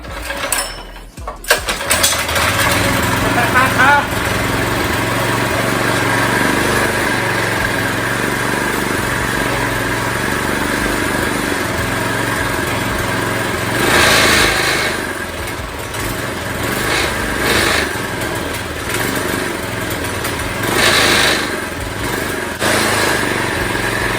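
Small single-cylinder engine of a homemade mini bike fitted with a sidecar runs steadily and close for about twenty seconds, with a few surges and dips in pitch as the throttle is worked.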